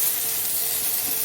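Butter and a sprinkle of salt sautéing in a pan for an omelet, a steady bright hiss of frying fat, fairly loud and even throughout with no talking.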